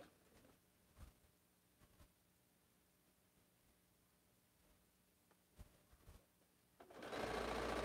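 Sewing machine stitching the last seam of a quilt before the border, heard only near the end as a sudden loud, steady run after a stretch of near-silence broken by a few faint knocks.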